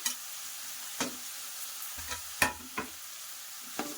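Green chilies and carrots frying in a pan, a soft steady sizzle broken by several sharp stirring scrapes and clicks of a utensil, close and moderately quiet.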